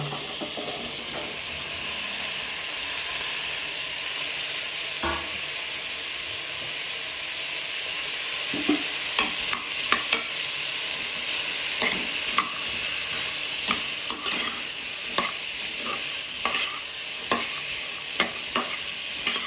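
Vegetable curry with turmeric frying in a pan, stirred steadily: a constant hiss of sizzling with scraping spoon strokes that grow more frequent and pronounced toward the end, close and moderately loud with no talking.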